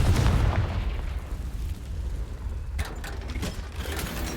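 A deep, booming blast from the Confringo spell in Hogwarts Legacy hits loudly at the start, then a rumbling tail fades into a quieter second thud.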